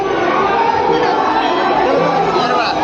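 A dense crowd mills around a lit-up temple during the Vitthal Ban pomegranate fair, producing a continuous loud babble of overlapping voices and chatter, close and unbroken.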